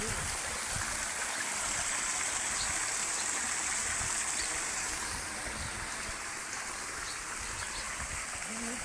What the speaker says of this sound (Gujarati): જો ત્યાં પાણીનો ધોધ પડે છે